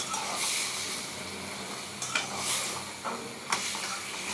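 Hilsa fish, vegetable stalks and potato are sautéed in a pan, a continuous sizzle broken by a few sharp stirring scrapes and clinks at irregular moments.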